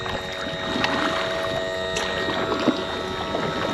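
Oars worked on an old dinghy out on open water, giving soft splashing and steady wash under a constant breezy hiss and faint tonal hum, with no voices.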